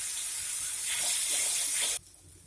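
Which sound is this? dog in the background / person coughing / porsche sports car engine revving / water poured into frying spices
water poured into frying spices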